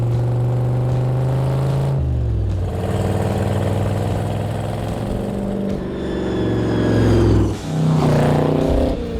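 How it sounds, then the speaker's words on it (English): A supercharged flathead engine in a Model A coupe runs loud and close, its deep burbling note shifting as it revs up and settles through gear changes, with a supercharger whine and no talking. "It's not stupid fast by all means, being a flathead, but it's just got that distinct sound that you just can't get sick of."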